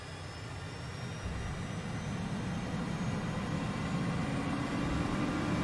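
Jet engine of a DC Designs AV-8B Harrier II VTOL in a flight simulator, held at max power: a steady, continuous roar with a low rumble and a faint rising whine, swelling slightly louder over the span.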